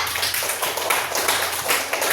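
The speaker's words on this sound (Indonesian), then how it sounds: "tepuk tangan Pak Mutata" A class claps for Pak Mutata during a school lesson on magnets, a short burst of brisk, fairly faint applause from a group of people.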